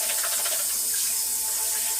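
Water poured into a pot holding string beans, a steady rushing splash filling the pot up close without pause.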